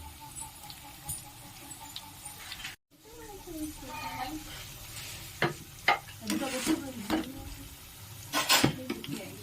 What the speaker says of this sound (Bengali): একদম লাল লাল করে ভেজে নেব।